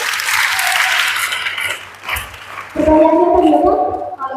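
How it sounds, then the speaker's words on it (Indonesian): A school audience at an Indonesian student organisation gathering gives brief applause, clapping loudly at first, then fading, followed by a short burst of louder sound with voices toward the end. "Tepuk tangan dong."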